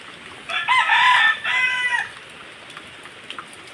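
A rooster crows twice in quick succession, bright and fairly close, in a storm-damaged yard after a super typhoon, with light background noise and no talk.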